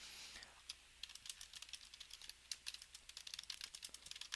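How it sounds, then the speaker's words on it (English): Rapid, close-up clicking of keys on a computer keyboard, irregular bursts of typing that continue throughout at low volume. "Hear that typing? I'm sending a message."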